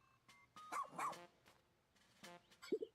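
A dog in the Pikmin 4 video game barks several times in short, sharp yips, fairly quiet, with a brief whimper-like call at the end.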